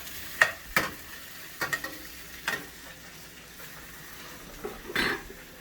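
Salmon sizzling in a frying pan just after being flipped, a soft continuous fry under a few sharp scrapes and taps of a utensil against the pan.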